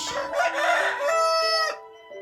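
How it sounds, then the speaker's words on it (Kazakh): A rooster crows once, loud and close, a long harmonic call that rises and then trails off into quiet. "Әтеш."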